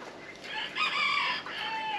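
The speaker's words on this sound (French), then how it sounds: "Donc là, il y a les Bresse Gaulois." A Bresse Gauloise rooster crows once in a backyard poultry run, a short, fairly faint call heard alone with a few soft clucks around it.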